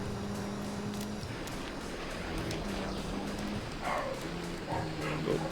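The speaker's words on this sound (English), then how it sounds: "we got dogs barking away." Dogs barking somewhere in the background of a Swiss Alps racing course in Gran Turismo 3 Arcade Mode, several sharp barks spaced out over a steady car engine hum.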